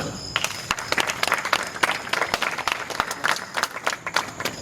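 Audience applause at an evening theatre performance at the Institut français in Bamako, steady clapping from a medium crowd with sharp individual claps standing out, fairly close and continuous.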